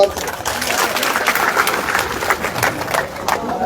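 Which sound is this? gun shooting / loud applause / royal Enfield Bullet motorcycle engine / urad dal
loud applause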